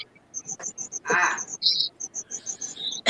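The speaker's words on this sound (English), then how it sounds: "Sounds like somebody's got crickets." Repeated high-pitched cricket chirps pulse steadily in a quiet room, faint and regular, with a brief louder burst of noise partway through.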